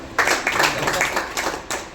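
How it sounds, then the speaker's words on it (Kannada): Audience clapping to welcome a company founder at a head office leaders meeting in Shimoga, a ragged burst of applause from a room of people, with some voices mixed in. "ಅವ್ರಿಗೆ ಒಂದು ಚಪ್ಪಾಳೆ ಮೂಲಕ ವೆಲ್ಕಮ್ ಮಾಡ್ಕೊಳ್ಳೋಣ"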